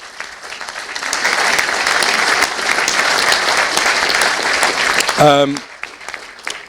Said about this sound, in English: So a round of applause for everybody who donated to that